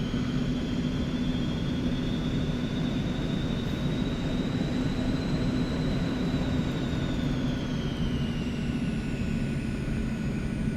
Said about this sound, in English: This airplane takes quite a bit of power to keep it rolling on the ground.